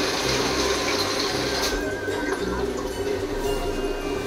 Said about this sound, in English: So we've just got some tap water.